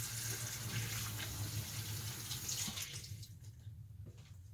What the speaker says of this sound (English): Wash off my hands.